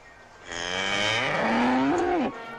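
A single long cow moo, loud and close, rising into a sustained harmonic bellow before cutting off sharply, with no other sounds around it.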